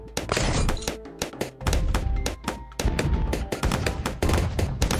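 Sniper tower firing in the video game Bloons TD 6, a fast run of sharp, loud gunshot cracks in irregular bursts over game sound throughout.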